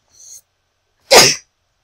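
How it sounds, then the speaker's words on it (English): A single sharp human sneeze, loud and close, preceded by a brief faint intake of breath. "I had to sneeze."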